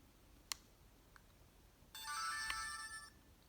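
Startup sound of a Yorkoo kids' digital toy video camera: a bright electronic chime lasting about a second, loud and close, preceded and punctuated by small button clicks in a quiet room, with no talking.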